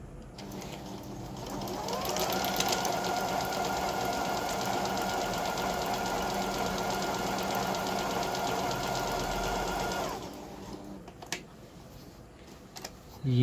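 A Juki HZL-T8201 sewing machine stitches a design, giving a fast, steady mechanical whir with rapid needle ticking that runs for about eight seconds before stopping, followed by a few small clicks.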